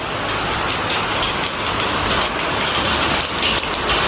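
Heavy afternoon rain pours in a loud, steady, dense hiss that runs unbroken from start to finish, with no talking over it.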